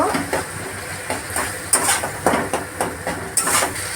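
Spice masala of chili, cumin and coriander powders being stirred and sautéed in a pan for doi chingri, prawns in yogurt. A spoon scrapes and clinks in an irregular rhythm over a steady background hiss, with no talking.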